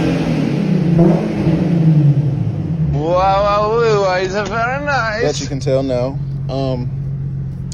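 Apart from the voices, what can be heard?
modified car exhaust revving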